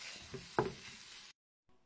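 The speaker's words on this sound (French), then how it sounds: "Maintenant je mélange, je mélange le tout. Ça va faire une sorte d'œuf brouillé avec de la courgette." Scrambled egg and courgette are stirred in a pan over a soft sizzle, with a sharper scrape or clack partway through. The sound then cuts to near silence and returns faintly at the end.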